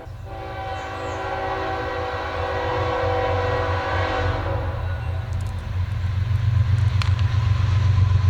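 A train rumbles past at close range, its horn sounding in long sustained chords through the first half over a steady low roar of wheels and cars that stays loud throughout.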